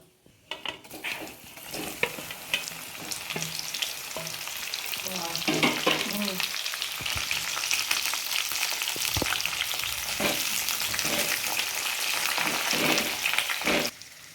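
Raw mango pieces sizzle in hot oil with fried spices for a sour-spicy pickle, a continuous crackling fry broken by scraping stirs and clinks of a spoon against the pan, close up with no talking.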